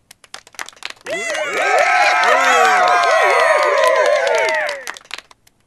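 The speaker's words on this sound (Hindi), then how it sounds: "एक बार जोरदार डिजिटल तालियां सिर्फ और सिर्फ दिलीप दास के लिए" A digital applause sound effect of a roaring crowd swells in after a brief pause, with loud cheering, whistles and clapping held for about four seconds before cutting off sharply.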